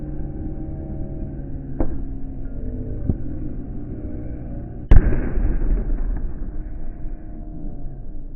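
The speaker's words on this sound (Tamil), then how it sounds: "அப்படியே இந்த வானம் வெடிக்கிறத ஸ்லோமோ போட்டு காட்டுறேன்" Fireworks burst over the Holy Cross shrine festival at Manapadu, Thoothukudi: a low, continuous rumble with a few faint pops and one sharp, loud bang partway through, with no talk.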